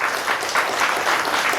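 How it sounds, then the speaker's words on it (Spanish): A gathering of teachers from three school levels in Puerto Bermúdez, Peru, breaks into sustained applause: dense, steady clapping from a sizeable indoor audience, even in loudness throughout. "Fuerte aplauso, colegas que están presentes aquí,"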